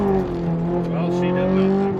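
A car fitted with cheap MaXpeedingrods adjustable coilovers hums steadily as it makes a slow U-turn at an intersection. The engine drone is close and even, with a voice talking over it.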